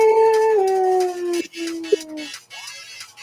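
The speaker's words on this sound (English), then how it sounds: "And you hear a howl." A drawn-out canine howl, used as a werewolf sound effect, sinks in pitch in two long wavering phrases. It is loud and close, followed by a short whimpering rise.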